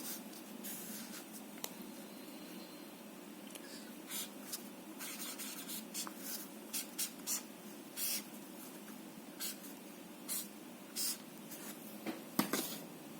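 A pen scratches across paper while a phasor diagram for an electrical transmission line is drawn by hand. Short, quiet strokes come in irregular bursts over a soft background hiss, with no talking.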